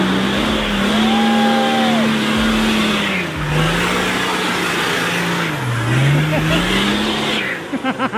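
A 4WD car engine on a dirt track revs loud and close, its pitch climbing and dipping through repeated throttle pushes and gear changes, with voices coming and going over it.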